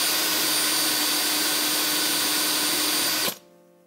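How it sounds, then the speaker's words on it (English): A power drill bores a small hole into the end of a zinc bar, its steady high whine running loud and unbroken for a few seconds before cutting off abruptly, leaving a faint fading hum. "I'll need to drill a small hole in the end of the zinc bar"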